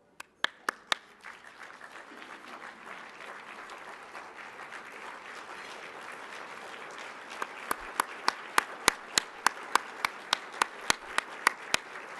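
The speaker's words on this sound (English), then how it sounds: "Please stand and give them a round of applause." An audience at a 2012 community breakfast stands and applauds previous Quinn Award recipients. The applause is sustained and steady, with a few loud, close individual claps standing out toward the end.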